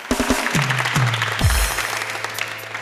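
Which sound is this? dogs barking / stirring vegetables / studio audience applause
studio audience applause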